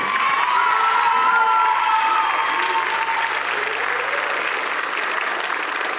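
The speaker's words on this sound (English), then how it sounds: "give these young men and women the greatest applause you've given them all day" A middle school promotion ceremony audience gives loud, sustained applause with cheering and a few high shouts, a dense crowd roar holding steady for several seconds.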